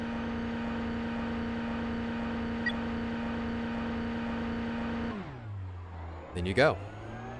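A Honda TCR touring car in the iRacing sim holds steady, high engine revs, then drops toward idle and gives a quick rising rev blip near the end, with someone talking over it.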